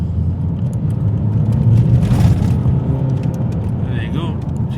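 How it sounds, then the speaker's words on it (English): A 2013 Vauxhall Insignia 2.0 CDTi diesel, suspected of a turbo boost fault, pulls hard in second gear with a loud, steady low engine drone that swells briefly in the middle, heard from inside the car. "Better to do a second gear pull."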